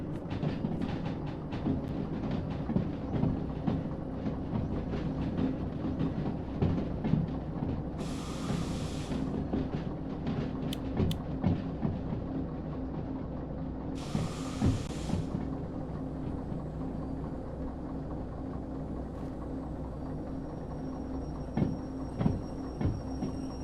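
Train rolls on rails in the Derail Valley game, a steady low rumble with scattered clicks and knocks from the wheels. Two brief hissing bursts stand out partway through.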